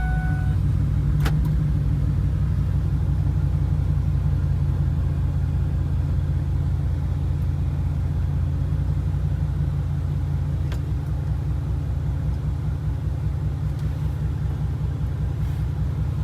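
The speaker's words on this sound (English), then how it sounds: "Let's go ahead and pull the truck in and see how it fits in there" A pickup truck rolls slowly into a garage, its engine a steady low rumble close by that eases off toward idle, with no talking.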